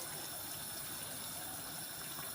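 Hot water poured into a pot of purslane with bulgur and green lentils, a continuous gushing, splashing pour, close and steady throughout, with no talking.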